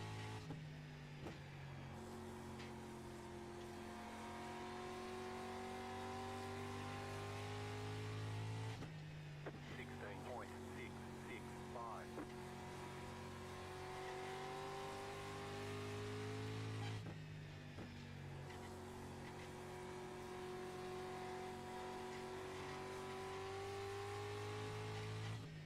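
Street stock race car engines roar steadily at Oxford Plains Raceway in the iRacing sim, a pack of cars droning and shifting pitch together with rising and falling revs, continuous and fairly close throughout.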